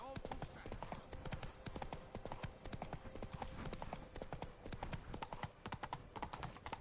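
Roach, a horse in the Witcher 3 video game, gallops with rapid, steady clip-clopping hooves that stay loud and close throughout, with voices talking over the hoofbeats.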